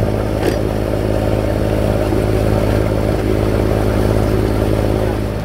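A sailboat's motor drones loud and steady at close range throughout, a continuous low rumbling engine note pushing the boat along at night.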